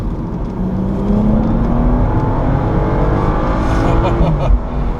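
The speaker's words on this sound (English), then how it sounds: "This car has some really, really fun chortles in the exhaust on downshifts" A 2014 BMW 435i convertible engine drones loudly with shifting harmonics on a race track, dropping and rising as gears change, with burbling exhaust crackles on downshifts near the end.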